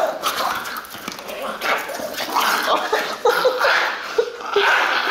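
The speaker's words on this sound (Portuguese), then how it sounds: "Cachorro boleiro!" A playful dog barks and yips in short, excited bursts while playing with a ball, mixed with people's talk and laughter close by.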